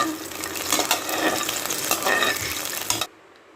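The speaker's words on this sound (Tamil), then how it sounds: "அரைச்சி வச்ச அவுளை சேர்த்தி நல்லா ரோஸ்ட் பண்ணுங்கள் நெய்லேயே" Finely ground flattened rice roasting in ghee, with a close, steady sizzle and scraping of a spoon stirring it in the pan for about three seconds, then an abrupt cut to near silence.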